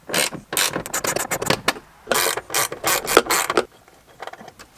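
A ratchet loosens 8mm bolts during heater core replacement on a 1994–2004 Ford Mustang, giving rapid close clicking bursts separated by short pauses.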